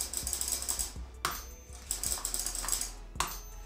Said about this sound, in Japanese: タイプライターですね